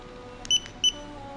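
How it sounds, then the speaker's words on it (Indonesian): Xiaomi Yi action camera giving two short, clear electronic beeps about a third of a second apart as its top shutter button is pressed, over a quiet room hiss. "ketika kita ingin mengambil gambar, kita cukup menekan tombol shutter yang ada di atas"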